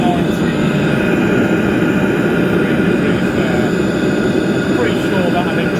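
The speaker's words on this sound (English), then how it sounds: "Just reducing the fan rate slightly, the pump rate slightly," A Chinese diesel heater's fan running at a raised rate under a homebrew controller, producing a loud, continuous roaring whoosh with a steady rumble underneath and no pauses throughout.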